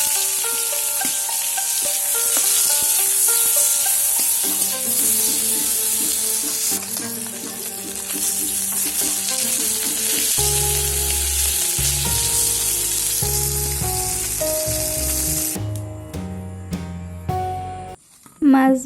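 Fish frying in hot oil with green chilies and onions, prepared for mashed fish bharta, gives a steady close sizzle with stirring, under background music that thins near the end.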